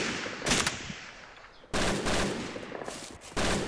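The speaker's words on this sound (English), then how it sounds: "Zimmerman, bring that MG over here." Machine gun bursts from a wartime hedgerow position, sounding as two or three sharp, loud, rapid volleys separated by brief quieter gaps of background rumble.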